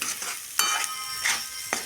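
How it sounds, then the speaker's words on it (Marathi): Onions and potatoes fry in oil tempered with cumin and garlic, a steady close sizzle broken by several scraping stirs of a spatula against the pan. "तेल जिरं लसूणची फोडणी देऊन त्याच्यात कांदा परतून घेतला आणि बटाटे टाकून घेतलेले"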